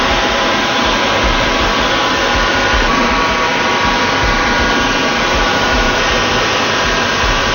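A cutting wheel grinding a crystal baptismal font gives a steady, loud, broadband whir that holds evenly through the whole stretch with no pauses and no voices.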